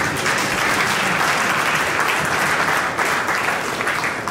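A large audience at a political gathering bursts into loud, dense, sustained applause that holds steady without pause throughout.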